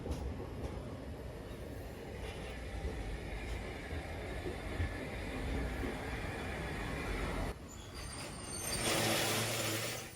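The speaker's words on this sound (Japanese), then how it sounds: "夜になっても相変わらず次から次へと電車が出入りしています" A Toyama streetcar tram rumbles steadily past at night, a continuous low rolling and rattling that swells near the end as another car comes through, with no voices.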